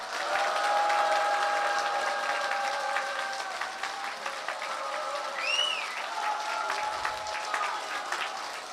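Crowd at a Korean political rally for Heo Kyung-young breaking into loud, sustained applause, dense clapping mixed with crowd noise and sustained musical tones throughout.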